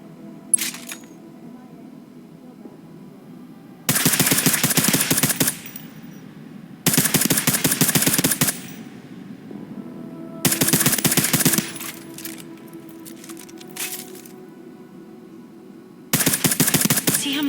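Bursts of suppressed machine gun fire at a video game shooting range, four sharp rapid strings of shots between quieter stretches with a low background hum, fairly close and loud.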